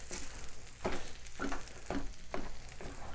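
Beaten eggs cook in a pan for bacon and cheese fried rice, a soft steady sizzle broken by quick rhythmic stirring scrapes about twice a second, moderately quiet and without speech.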